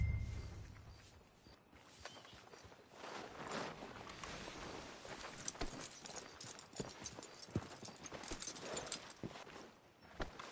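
Horse hooves clop at a walking pace in Red Dead Redemption 2, faint and steady, with a quiet ambient backdrop and light rustling.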